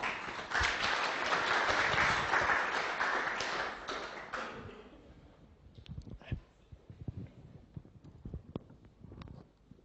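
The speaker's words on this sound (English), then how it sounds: "round of applause for Justin." Applause from a science honours information session audience welcoming the next speaker, dense clapping for about four seconds that thins into scattered claps and taps as it fades.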